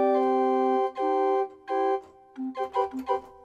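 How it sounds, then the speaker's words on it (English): A sampled box organ from ProjectSAM Orchestral Essentials 2 plays a short fairground-style phrase, with a few sustained reedy chords followed by quicker detached notes, clear and alone. "A box organ sounds like this."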